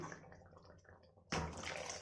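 Ground coconut milk is poured into a cooking pot. A soft, low liquid trickle gives way to a sudden louder, splashing gush partway through, with no speech.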